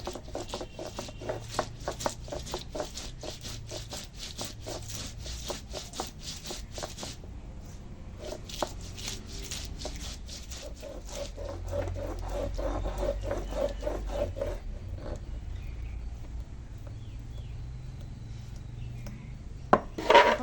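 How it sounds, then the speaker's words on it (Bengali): Eight to ten green chillies and white mustard seeds are ground into a fine paste for a hilsa fish dish, with steady rhythmic scraping and knocking strokes close up and a short louder clatter at the end. "এখানে নিয়েছি আট দশটার মতো কাঁচা লঙ্কা আর নিচ্ছি সাদা সর্ষে"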